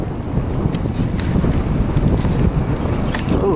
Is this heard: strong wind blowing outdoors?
yes